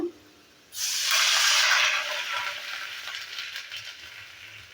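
Under half a cup of water hits a hot pan of fried semolina with a sudden loud hiss and sizzle that swells, then slowly fades into a softer bubbling crackle.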